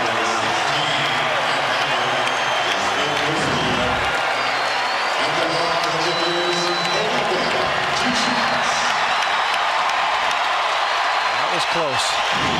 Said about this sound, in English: This crowd is on their feet wanting me to get it.